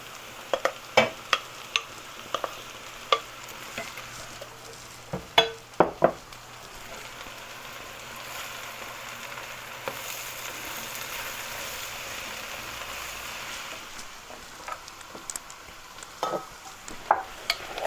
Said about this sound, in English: Now we're going to add in our mushrooms.